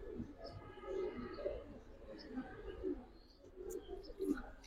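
Pigeons coo softly in a quiet, repeated low murmur, several gentle calls spread across the moment with faint chirps.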